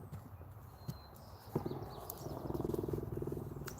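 A horse walks on hard ground, its hooves clip-clopping in a faint, uneven rhythm that grows steadier and a little louder toward the end, heard at a distance with soft background noise.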